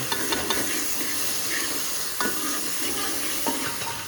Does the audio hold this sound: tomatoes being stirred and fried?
yes